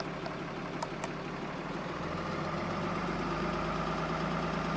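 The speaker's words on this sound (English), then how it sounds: "so I can raise the RPM here in this RAM" A Ram pickup truck engine runs with its RPM raised to a little over 1,000, giving a steady, even drone with a low rumble and no clear rise or fall, close by and without any talking.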